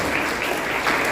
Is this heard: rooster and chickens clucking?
no